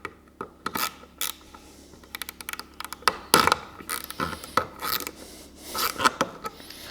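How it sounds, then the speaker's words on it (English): A Workzone ratchet screwdriver with a slipping ratchet makes close, irregular mechanical clicks and rasping pawl ticks in bursts, with some louder grinding runs midway and near the end. "the ratchet's slipping a bit"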